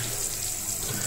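Water gushes steadily from a fully opened instant electric geyser tap in a continuous loud hiss and splash, with no voices over it.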